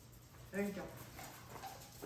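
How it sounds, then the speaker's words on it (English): A dog lets out one short, high whimper after getting a treat, close and fairly quiet, followed by faint softer sounds. "I have some happy dogs now"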